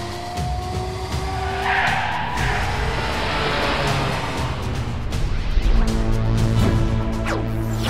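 Racing cars skid with tires squealing loudly and continuously, engines roaring under the shrieking rubber throughout.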